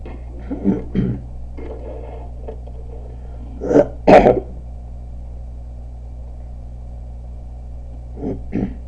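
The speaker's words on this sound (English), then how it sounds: "Trying to clear my throat." A person clears their throat several times in short, rough bursts, with the strongest pair in the middle, over a steady low background hum.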